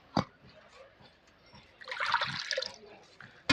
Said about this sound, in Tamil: அது தண்ணி ஊற்றிக்கலாம்